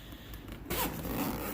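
A zipper pulled on a Kobalt multi-tool carrying bag, a close rasping run starting abruptly partway through and continuing steadily to the end, with no talking.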